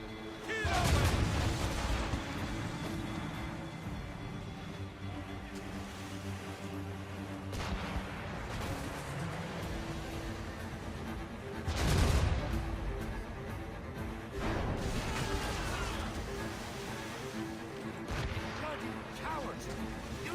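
Naval cannon fire in the Assassin's Creed Rogue video game, heavy booming blasts recurring every few seconds amid a dense battle soundscape of crashing impacts, music and shouting crew voices.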